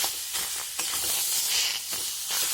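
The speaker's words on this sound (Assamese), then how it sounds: "এতিয়া এইখিনি অলপ ভাজা হওক, ভাজা লাহে লাহে হৈ থাকক" Taro and fish curry with tomato fries in a pan, giving a hissing, steamy sizzle that swells and eases in uneven pulses, close and without speech.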